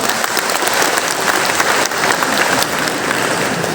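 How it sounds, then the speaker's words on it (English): A hall audience applauds the first Vice Chancellor at a university celebration, sustained loud clapping from many hands in an even wash of sound, heard alone without voices. "May we please give a big round of applause."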